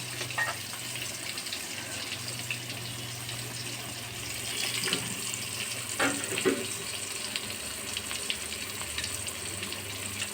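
Small fish fry in a pan with a soft, steady sizzle and hiss, punctuated by a few brief clinks and splutters, heard fairly close without any talk.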